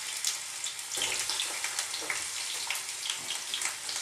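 Onions tossed into a hot pan start to fry, giving a soft steady hiss and crackle with a slight surge near the start, moderately quiet and close.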